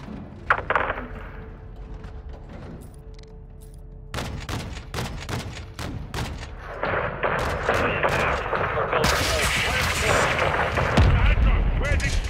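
Artillery fire in the video game Modern Warfare 2: repeated booming blasts and sharp cracks that thicken into a dense, continuous barrage, loud and close.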